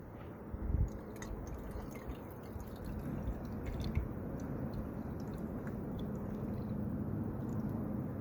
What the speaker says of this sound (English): we'll go ahead and give him his daily watering